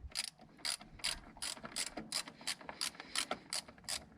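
A socket ratchet wrench clicks in quick, regular bursts while working on an engine pulley, each sharp metallic ratcheting stroke close and distinct, about a dozen in a row.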